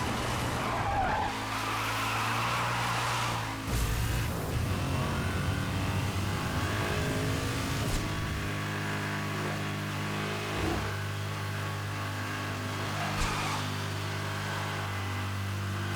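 Shelby GT500 Mustang engine in Need for Speed Hot Pursuit Remastered, a loud sustained low drone with revving shifts and tire skids, continuous throughout.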